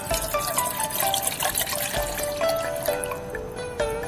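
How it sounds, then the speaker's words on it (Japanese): Water is poured from a plastic bottle into a pot at a camp stove set with a gas canister, giving a close, steady splashing and gurgling for a few seconds. "水を入れます。 必要な水だけペットボトルに入れてきました。"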